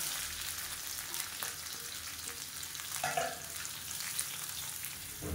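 Mint leaves and onions fry in oil in a pan, a steady close sizzle and crackle with occasional stirring scrapes, continuous throughout with no voices.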